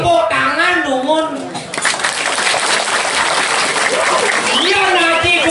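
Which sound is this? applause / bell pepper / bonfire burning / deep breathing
applause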